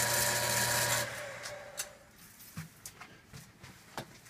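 Machining tool cutting a small bushing out of an SU H type carburetor, a steady grinding whir for the first second, then a few light scattered clicks and scrapes as the cut finishes.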